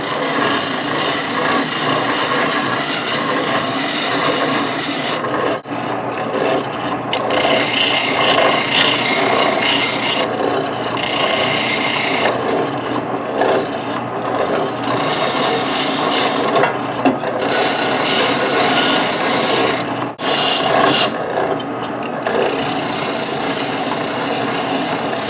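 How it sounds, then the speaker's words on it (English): An oscillating sander shapes a wooden guitar neck, smoothing the transition to the headstock and heel. Close, loud, continuous abrasive rasping runs throughout, broken by a few brief pauses as the wood is lifted off the sander, with no talking. "I want to shape the transition to the head and the heel on this oscillating sander"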